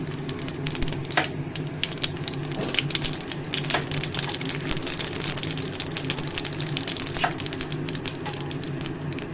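Cumin seeds and bay leaves sizzle steadily in hot oil in the pan where fish was just fried, a loud, continuous crackling hiss with small pops, close up and with no speech.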